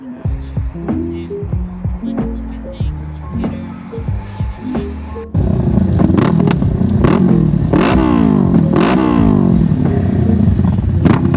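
A Yamaha FZ-07 motorcycle engine, idling in a throbbing lower tone and then revving up loudly, with rising and falling pitch sweeps close by.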